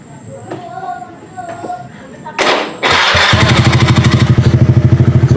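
A Honda Icon scooter fitted with a WRC aftermarket exhaust starts up after a few soft clicks and thumps, then settles into a loud, steady, pulsing idle close by.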